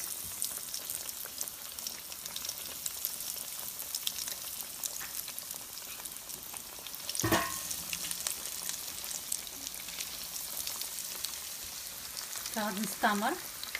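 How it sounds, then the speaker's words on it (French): Chicken legs frying in oil for an anise-seasoned dish, a steady broad sizzle throughout with a sharp clatter near the middle and brief scraping or turning sounds near the end. "je commence à les faire frire dans de l'huile"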